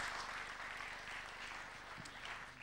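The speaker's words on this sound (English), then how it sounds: "Big round of applause for Weller, please." Audience applause at a live competition event, a steady wash of many hands clapping that holds for a few seconds, moderately quiet and without talk over it.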